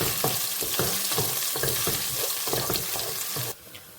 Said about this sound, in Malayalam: ഞാൻ വെളുത്തുള്ളി ഇട്ട് കൊടുത്തിട്ടുണ്ട്.